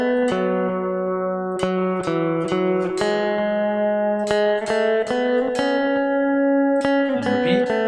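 Electric lead guitar plays the intro of a song, bright plucked notes ringing over a steady sustained drone in a repeating melodic pattern, loud and up close.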